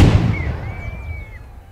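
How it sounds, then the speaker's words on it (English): A cannon at a castle built in 1575 fires with a sharp, loud boom that rolls away into a fading rumble, while a long thin whistle rises and trails over it. "it also has a cannon which is ready to fire on unwanted visitors at any time"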